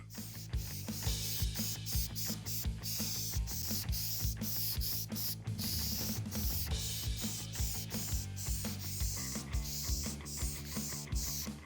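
Spray adhesive is misted onto mesh in a car-wiring workshop on a GTO project, heard as a steady run of short, rhythmic hissing bursts from a nearby can, with no talking.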